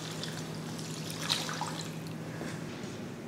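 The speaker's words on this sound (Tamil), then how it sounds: "அடுத்து குழம்புக்கு தேவையான தண்ணி ஊற்றிடலாம்." Water poured into a pot of kuzhambu curry during home cooking, a soft steady trickle and splash, faint and continuous with no talking.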